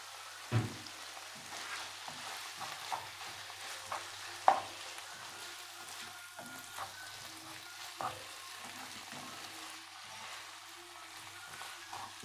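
Kebda liver with onion, tomato and parsley heats in a pan before filling kaiser bread, a soft, steady sizzle broken by occasional stirring knocks, close and fairly quiet with no voices.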